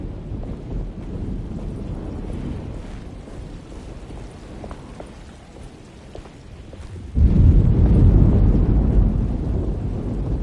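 A thunderstorm rumbles in the video game Alone in the Dark, with low rolling thunder and rain noise building to a louder, heavier surge.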